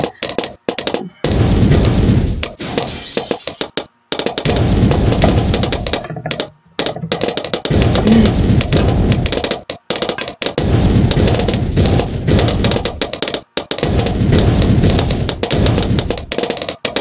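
In a video game, repeated bursts of gunfire and heavy mortar blasts come in loud, dense volleys separated by brief gaps, with close, harsh impacts filling most of the stretch.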